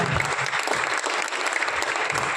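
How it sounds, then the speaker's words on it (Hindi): Hearty audience applause at an Indian amateur stage play performed by tax department officers, a dense, continuous clapping that stays loud throughout the short stretch. "देवेंद्र भाई की लेखनी के लिए जोरदार ताली"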